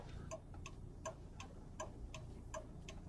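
A car's left turn signal ticks in an even rhythm inside the cabin during a driving test route in Brovary, with about seven clean clicks that are faint and steady and have no talk over them.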